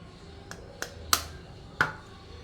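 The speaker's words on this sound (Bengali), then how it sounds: "দুটো ডিম দিয়ে দিচ্ছি প্রথমে" Two eggs are cracked into chocolate brownie batter, producing four sharp, separate cracking taps spaced over a couple of seconds against a quiet, hushed room.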